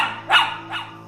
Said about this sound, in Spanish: Sus ladridos eran fuertes y constantes.